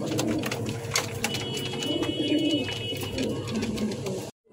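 Domestic pigeons kept as breeding pairs coo repeatedly in soft, throaty rolling calls, several birds close by, continuing steadily before cutting off abruptly at the end.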